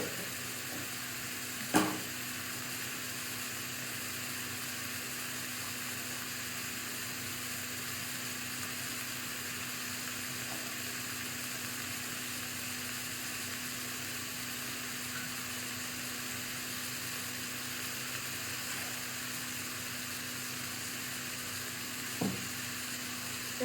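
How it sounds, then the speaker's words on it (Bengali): Sliced white potatoes and a few small green chillies fry in a little oil in a pan, giving a steady, even sizzle with a couple of sharp clinks of a utensil and no talking. "বেশ ভালো করে ভেজে নেবো।"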